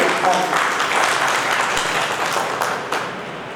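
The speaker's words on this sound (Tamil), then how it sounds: "அனைவரும் கைத்தட்டி ஆரவாரம் செய்யலாம்" Audience at a Tamil stage event claps and cheers to welcome a special guest, a dense steady wash of applause throughout with some voices mixed in.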